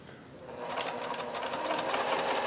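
A sewing machine stitches piped cord onto fabric, its needle running in a fast, steady rhythm that starts after a brief pause and continues close and clear with no talk.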